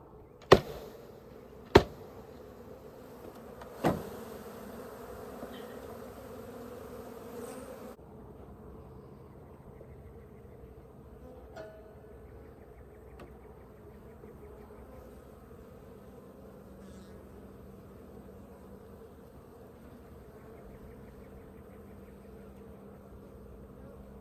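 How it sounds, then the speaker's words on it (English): Africanized honeybees being knocked loose from a shed floor in Southern Arizona, giving a low, steady hum throughout, with a few sharp knocks and thumps near the start. "now I've got to knock some of the bees loose in order to get them out"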